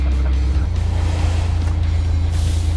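A three-wheeler sports car engine growls loudly and steadily with a deep, throbbing low rumble that carries through the whole clip, with no talk over it.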